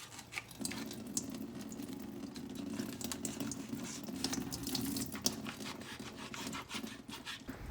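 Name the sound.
tofu liquid being poured out into a sink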